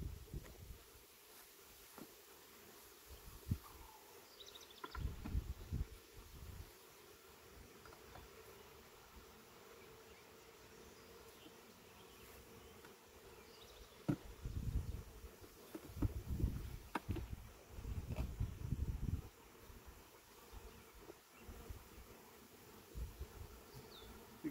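Honeybees at an open hive, with frames being moved and the colony growing agitated, make a faint, steady buzz, with bursts of louder low rustling and handling noise in places.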